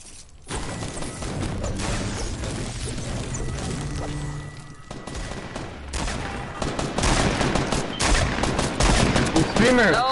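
Dense, sustained video game gunfire, with rapid shots and crashes stacked into a continuous loud barrage and intensifying toward the end, while a voice speaks over it now and then.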